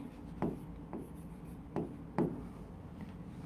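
Marker or chalk strokes on a board during a physics lecture on vectors come as four short, distinct scratchy taps spaced irregularly over a quiet room background.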